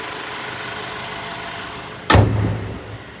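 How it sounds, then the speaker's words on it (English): A 2024 Alfa Romeo Stelvio TI AWD hood slams shut with one heavy, close thunk, its deep boom decaying over about a second after steady engine and ambient noise. "thunk to it when you close the hood"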